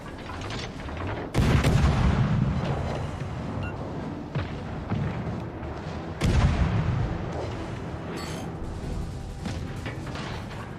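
Naval gunfire in World of Warships Legends, two heavy booming salvos with rumbling tails separated by a lower mechanical battle din, no talking.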